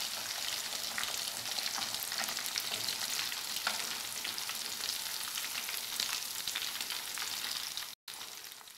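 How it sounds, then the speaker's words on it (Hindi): Fish pieces fry in hot oil for a Pakistani fish salan, a continuous close sizzle and crackle with scattered pops, briefly cut off near the end, with no talking. "बाकी के पीसेस भी फ्राई कर लेते हैं।"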